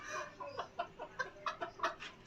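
Desi hens kept on a house rooftop cluck in a string of short, separate calls at an uneven pace, faint and near the mic, with no voices over them.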